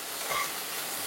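Onions and carrot stirred in a hot pan for a sabudana upma give a brief steady sizzle and hiss, with a soft scrape of the spoon near the middle.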